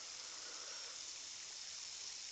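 Water running steadily from a faucet, a faint continuous hiss with no pauses or other sounds.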